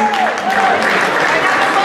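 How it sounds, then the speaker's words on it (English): Spectators at a juvenile Latin ballroom dance final applaud the couples in a short, loud burst of dense clapping, with a faint tonal sound running underneath. "A big round of applause, please"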